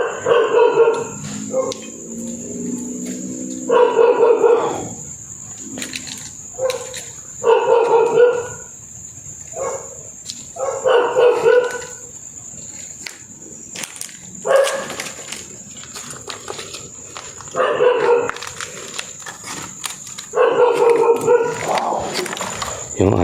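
Dog barking at night outside an abandoned hospital, repeated bursts of loud barks in clusters with gaps between, a high steady insect-like whine running underneath and a voice talking quietly at times.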